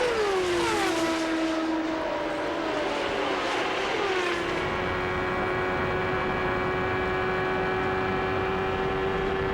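Nigel Mansell's race car engine, heard on board, screams at high revs, its pitch dipping and climbing as the throttle changes, then holding a loud, steady whine.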